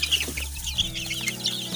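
Local hen chicks in a brooding pen clucking and cheeping close by, short soft clucks and chirps overlapping in an uneven stream.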